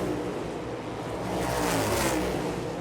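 NASCAR Cup Series cars run practice laps at New Hampshire in 2024, a continuous roar of engines with one car swelling louder as it passes, close and steady throughout.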